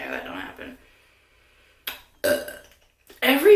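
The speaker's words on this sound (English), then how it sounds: "Every video, I have to burp" A short, close burp from a woman, coming between bits of her talking and followed by a few light clinks of objects being handled.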